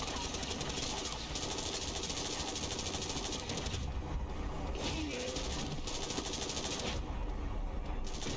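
Sustained rapid gunfire in a video game cutscene from Like a Dragon: Infinite Wealth, dense automatic bursts running continuously at steady loudness with faint talk underneath.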